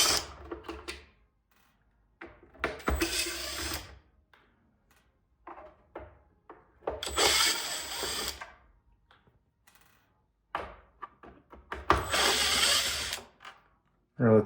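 A power driver runs T15 Torx screws on the inner plastic of a Ford F-150 Lightning side mirror, giving three long whirring bursts with short ratcheting clicks and handling taps between them.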